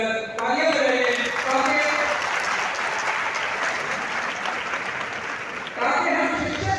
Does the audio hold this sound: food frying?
no